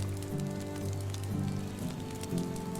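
Steady rain falling in the Medieval Dynasty video game, a continuous soft hiss of drops on surfaces under a low, droning hum, moderately quiet and unbroken.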